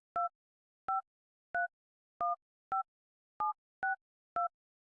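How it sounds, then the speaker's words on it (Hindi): A series of eight short two-tone telephone keypad beeps, evenly but slightly irregularly spaced, sounding clean and isolated against silence. "मैंने अपने जेब से फोन निकाला और अपने बॉस का नंबर डायल किया"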